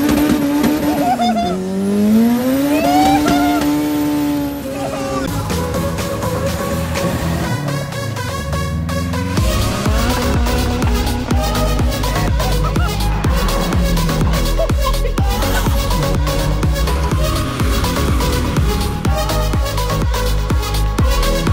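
A turbocharged Honda Civic pulls hard in third gear, its engine note sweeping up loudly and continuously with gear-change dips and turbo whoosh, heard close from inside the car with voices faintly underneath.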